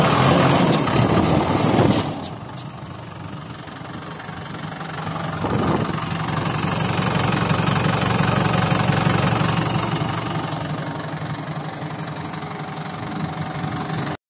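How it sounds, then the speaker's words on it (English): A JCB boom loader diesel engine cranks, catches after a starter repair, then settles into a loud, steady idle with a rough knocking throb and a brief swell in revs, close and alone. "so now I'm going to start the machine"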